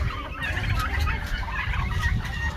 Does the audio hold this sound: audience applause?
no